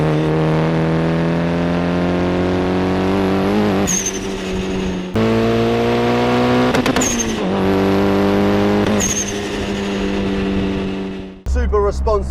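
A Mitsubishi Evo 6 RS street-legal rally car accelerates hard, its engine note climbing loudly and close through several quick gear changes before cutting off.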